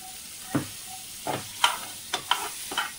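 Paneer sizzles in butter in a pan. A few soft scraping stirs and short bursts of frying crackle come and go over about three seconds, close and fairly quiet.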